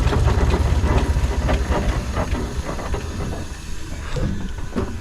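A Foden C Type steam lorry running with the regulator shut, giving a steady mechanical rumble with hissing and rattling clanks, close and continuous.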